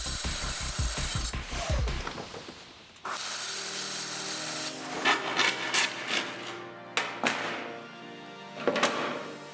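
OSB board being cut to length with a power saw: a brief buzzing motor start, then a sustained rasping cut through the wood with several surging bursts, close and fairly loud.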